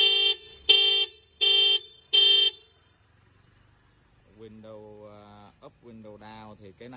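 A Mitsubishi Triton pickup's horn, triggered remotely from an Apple Watch, sounds four loud, even, evenly spaced honks, followed by a quiet pause and then someone talking.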